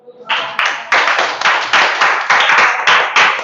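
A classroom of students applauds a classmate, about a dozen quick bursts of loud, close clapping in a steady rhythm after a brief soft start.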